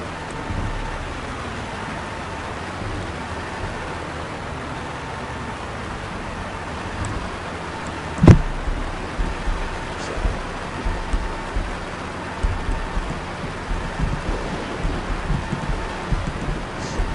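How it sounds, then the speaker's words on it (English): Steady rain hisses through a truck-driving game, 18 Wheels of Steel Across America, a constant wash at moderate level with a single sharp crack midway and faint scattered ticks afterward. "apparently in this game, I guess it rains a lot"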